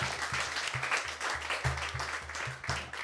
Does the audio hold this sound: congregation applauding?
yes